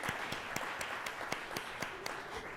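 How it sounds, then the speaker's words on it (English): A small audience at a Columbus Metropolitan Club event claps in a loose, sparse rhythm, with distinct individual hand claps standing out over softer background applause. "Let's all give them a round of applause."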